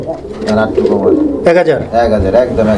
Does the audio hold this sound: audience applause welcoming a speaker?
no